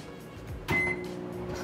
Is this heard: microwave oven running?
yes